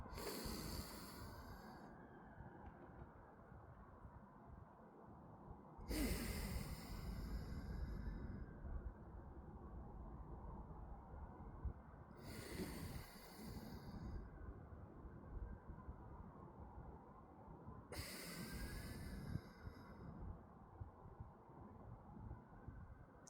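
Slow, deliberate breaths drawn through the nose during a calming counting exercise, four quiet cycles repeating at an even pace with soft hissing inhales, close and faint.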